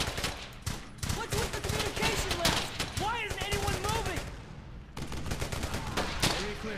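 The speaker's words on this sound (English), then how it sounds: "Give me some covering fire!" Rapid bursts of rifle and machine-gun fire from the World War II shooter Brothers in Arms: Hell's Highway, dense and continuous across the whole stretch, with brief shouted voices mixed into the battle.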